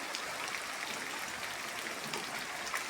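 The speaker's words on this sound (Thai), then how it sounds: "ฝนตกบ้านข่อยกันแดดมาเลยได้บัดนี้" The year's first rain falling at a rural Thai home, a soft continuous hiss of drops, even and fairly faint throughout without any voices.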